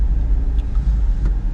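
A car rolls slowly past a roadside garden store in bright, hot sunshine, its engine a steady low rumble close by with faint road noise, no voices.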